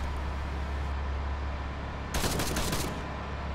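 Vehicle turret gunfire in the video game Arma 3, a short loud automatic burst lasting under a second over a constant low engine drone.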